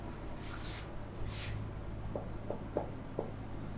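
Faint scratchy strokes of writing out a math solution for a Class 10 real numbers exercise, a few soft separate marks over a steady low hum.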